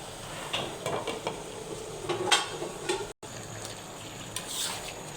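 Bottle gourd and fish head being stirred in a pan with oil, giving faint scraping and clinks of a spoon against the pan over a soft, low sizzle, with a brief silent gap midway.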